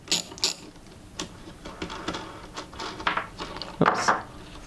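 A 10mm socket ratchet turns on a modular ECU, giving a close run of quick metallic clicks in uneven bursts that ends in a louder clatter.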